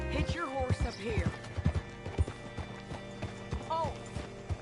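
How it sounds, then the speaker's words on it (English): Horse hooves clip-clop in the Western video game Red Dead Redemption, a light irregular trot close by, with a brief whinny and a voice talking over it. "Hitch your horse up here."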